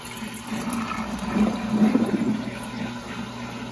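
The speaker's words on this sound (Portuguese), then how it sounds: "Limpando ela pra cá pra sair toda a água, porque o ralo dela é aqui." Water drains out of a Brastemp Eggo BWI01 1 kg mini washing machine after a rinse, running through its bottom drain in a steady, close rushing flow that swells slightly in the middle and then settles.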